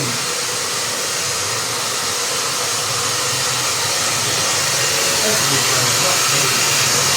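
A steady, loud blower roars continuously with a broad hiss, like a hair dryer running nonstop without pause, used to dry chickens.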